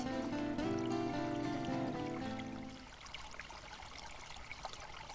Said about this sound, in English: Adam, let her play water, help her and play water with me. Let's wash the feet